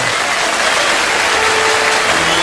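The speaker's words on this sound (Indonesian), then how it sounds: "let's give big applause for the groom and the bride" Wedding party guests clap for the newly arrived bride and groom, Devon and Iona, a loud, dense, steady wash of applause from a large crowd filling the whole stretch without pause.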